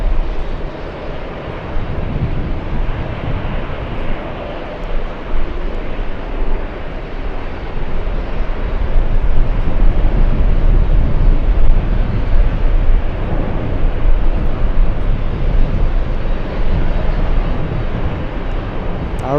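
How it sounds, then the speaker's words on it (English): Airbus A380 taking off at JFK, a loud sustained jet roar that swells midway and stays powerful and broad, rumbling alone with no speech. "Back-to-back A380 takeoffs in front of the LA Flights cameras"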